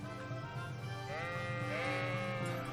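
Sheep in the medieval role-playing game Kingdom Come: Deliverance give a loud, sustained wavering bleat, with a second bleat overlapping, over a steady game background hum.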